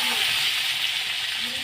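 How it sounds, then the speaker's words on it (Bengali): Pointed gourd (potol) fries in hot oil with turmeric, making a steady, close, bright sizzle that runs evenly with no pauses. "এবারে পটলগুলোকে আমি ভালো করে নেড়ে ছেড়ে ভেজে নেবো লাল লাল করে।"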